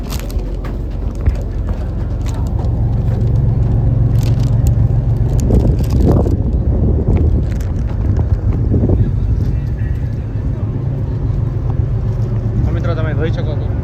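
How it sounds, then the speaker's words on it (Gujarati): A passenger ship under way from Surat toward Bhavnagar in rainy weather, its low steady engine rumble mixed with gusty wind buffeting on deck, while someone talks over it throughout. "જહાજ ઉપડી ગયો છે મસ્ત મજાનો, એકદમ શાંતિપૂર્વક. અને પવન પણ છે"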